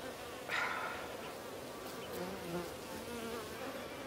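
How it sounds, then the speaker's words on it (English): Bees swarm and buzz close around bait traps in the Amazon rainforest of Chiribiquete, Colombia, a steady dense droning with a few louder passes near the ear and no talking. "That's the problem with bees and the traps."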